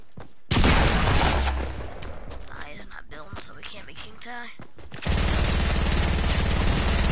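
Gunfire in the video game Fortnite Season 6 rings out in loud bursts and rapid shots amid game effects, with a player voice talking over the action.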